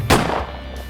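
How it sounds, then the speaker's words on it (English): A single loud, sharp gunshot bursts close by as an officer fires, followed by a brief decaying echo with no further shots. "you hear gunshots as the officer has pulled his gun and is now firing at some of these frenzied people"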